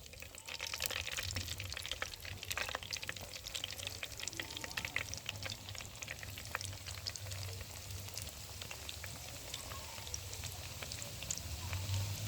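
Potato samosas deep-fry in hot ghee over a low flame, a steady, close bubbling sizzle that runs unbroken throughout with no talking.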